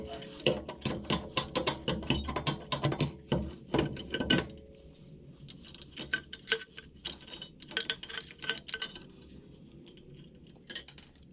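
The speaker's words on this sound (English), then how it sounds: "now we can install the half axle." Metallic clinks, ticks and ratcheting clatter sound up close as a half axle is fitted back into the rear of a Volvo 240 during a wheel bearing job, busy at first and then sparser, quieter taps.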